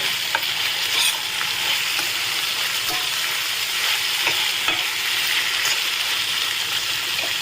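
A spoon stirs soy sauce, tomato sauce and chilli sauce into paneer chilli in a hot pan, a steady close sizzle with soft scraping and occasional clinks throughout, no talking.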